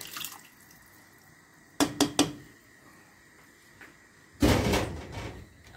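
Water is splashed into a metal spice vessel and rinsed out into a pot of traditional paaye, a few sharp clanks followed by a brief burst of sloshing, pouring water nearby.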